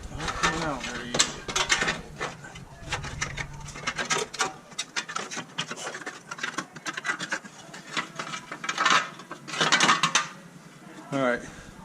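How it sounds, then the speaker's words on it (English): Small 8mm gear wrench ratcheting a bolt out on a 2014–2019 Ford Escape 2.0 during transmission work, heard as close, brisk metallic clicking in repeated bursts with some clanking of tools between them. "This one I just used my little gear wrench. Took it out."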